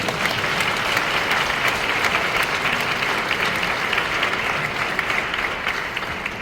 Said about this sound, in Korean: 여러분 다 동의하시면 큰 박수 한번 치고